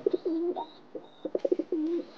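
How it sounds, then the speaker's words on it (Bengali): Short-face pigeons cooing close by in a repeated series of soft, rolling coos with brief gaps, a few quick throaty notes bunched together, and no talking. "তো খুব সুন্দর পায়রা দুটো, আমার অনেক ভালো লাগে।"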